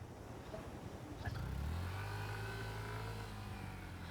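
A vehicle engine revs on a sandy beach, a low steady drone that swells after about a second and then holds at a sustained roar, fairly close.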